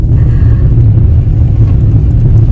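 Steady low engine rumble and road noise fill the cabin of a car driving home through town, loud and continuous with no talking.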